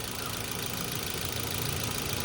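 A Mitsubishi Xpander engine running noisily after an oil change, a steady close mechanical drone with rattly knocking texture throughout.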